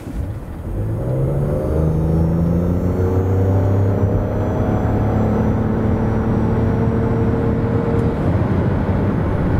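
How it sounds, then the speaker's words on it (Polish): A 2023 Nissan X-Trail e-Power hybrid with a 1.5 engine and 213 hp accelerates hard from 0 to 100 km/h in sport mode, a loud rising drone and hum climbing steadily over road rumble inside the cabin. "W trybie sportowym przekłada się to na takie przyspieszenie od 0 do setki."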